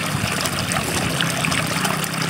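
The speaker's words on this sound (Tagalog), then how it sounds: "yan yung kanal nila na pinagpapadaluyan ng tubig" Water runs steadily along an irrigation canal beside a calamansi planting, a continuous soft trickling flow at low level with no voices.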